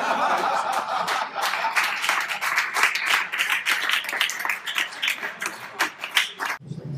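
An audience at a mental magic show claps in a dense burst of applause lasting several seconds, with some chuckling and laughter mixed in before it cuts off.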